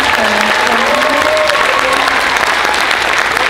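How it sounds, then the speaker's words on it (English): A school winter choir concert audience applauds staff members with loud, sustained, even clapping from a full crowd, some faint voices rising over it. "if we could give them a nice round of applause"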